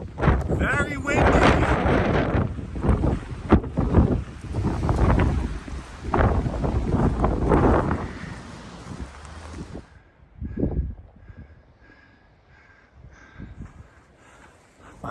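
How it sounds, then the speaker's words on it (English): Loud, gusty wind on the Pacific Crest Trail at about 5,700 feet buffets the microphone with heavy low rumbles for most of the clip, then drops off and leaves a quieter stretch with faint bursts. "Very windy."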